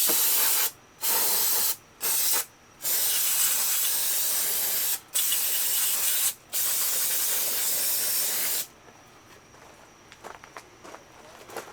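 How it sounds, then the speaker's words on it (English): Several loud, hissing bursts of aerosol brake cleaner sprayed around car surfaces in quick succession, separated by short pauses, then a long continuous spray before it stops and quiet shuffling follows. "I like to take brake cleaner and spray around all my surfaces"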